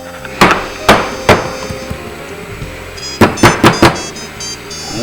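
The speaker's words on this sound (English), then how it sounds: "it says to tap this down by smacking it down on your countertops" A lasagna pan is smacked down on a kitchen countertop, giving sharp, loud thumps. Three come spaced apart, then after a pause another four land in a quick run, with quiet room noise between them.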